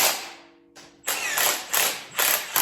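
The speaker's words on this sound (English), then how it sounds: "And now we gotta torque them down" An air ratchet gun drives down valve train bolts on an LS engine during a Jeep TJ swap, giving loud repeated bursts of rattling impacts with short pauses between them, close to the mic.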